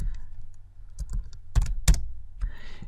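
Keys clatter on a computer keyboard in uneven bursts, a few scattered taps then two sharp loud presses and a short run of quicker typing, close up and without speech.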